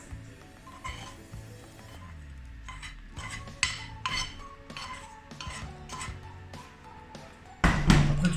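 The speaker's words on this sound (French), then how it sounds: "Tout ça, remuez, mélangez bien." A spoon mixes a potato, gruyère and lardon filling in a bowl, with repeated rhythmic clinks and scrapes against the sides and a louder clatter at the very end, heard up close without speech.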